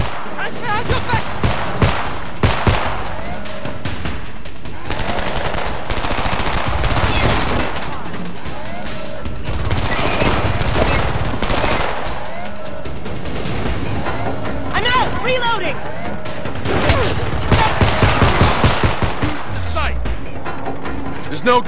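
Bursts of automatic rifle fire and scattered shots from the Xbox 360 game Homefront, loud and intermittent with booming impacts, mixed under urgent shouted voices.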